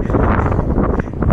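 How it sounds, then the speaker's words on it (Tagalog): Strong wind buffets the microphone during a bike ride on a pickup and delivery run, a loud, continuous rumbling roar with no speech. "Lakas ng hangin mga boss."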